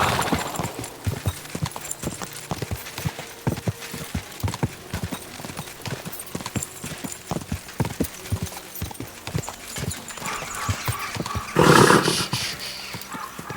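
Horse in the video game Kingdom Come: Deliverance 2 gallops with steady, close clip-clop hoofbeats throughout, then gives a loud, brief whinny near the end; no talking.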